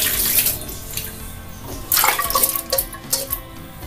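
Cooked dal and water are poured into a pot of sambar for a Kerala sadya, giving a close, splashing gush that swells twice in quick succession.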